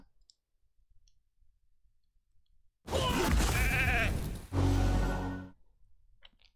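A sheep bleats in the RAID Shadow Legends video game: one loud, wavering bleat about two and a half seconds long, rising suddenly out of near silence and then stopping.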